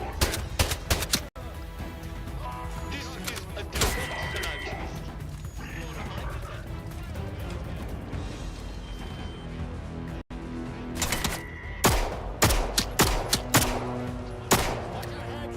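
Video game shooter gunfire, loud rapid shots and bursts stacked over a busy mix of music and effects, with sharp cracks around the middle and a dense flurry near the end.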